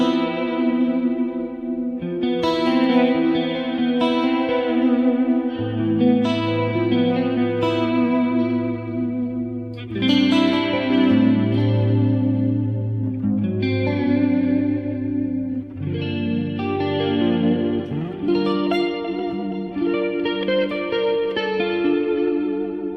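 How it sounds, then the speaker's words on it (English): A clean electric guitar played through twin delay, echo and chorus effects rings out in slow strummed chords and sustained notes, each trailing off in shimmering repeats, loud and close with no talking. "And then I just added a twin delay, and another delay for like echo, and then I can add a chorus on here too."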